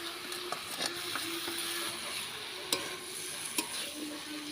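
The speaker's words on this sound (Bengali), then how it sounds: "দেখুন বন্ধুরা, কষা হচ্ছে এঁচোড়টা।" Jackfruit and potato sauté in a pan with a soft, continuous sizzle and repeated scraping stirs, a few sharper clicks standing out, fairly close but quiet.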